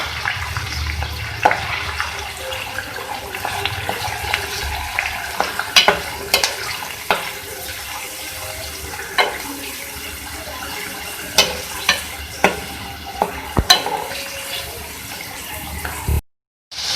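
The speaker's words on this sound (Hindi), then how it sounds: "सबसे पहले हम ऑयल में कीमा ऐड करेंगे और इसको हम फ्राई कर लेंगे" Continuous sizzling of minced chicken frying in oil, with occasional sharp clinks and scrapes of a utensil stirring the pan.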